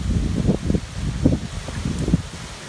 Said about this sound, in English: that wind is really just making a noise.